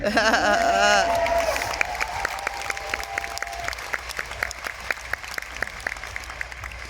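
An audience at an outdoor vegan campout talk claps after a line from the speaker. A burst of voices and whoops opens it, then scattered, uneven claps thin out over several seconds.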